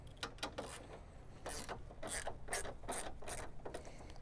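Hand ratchet working loose 10 mm bolts on a 1998-2002 Toyota Corolla bumper during a headlight install: repeated bursts of quick metallic clicking in uneven strokes, close and fairly quiet, with no talk.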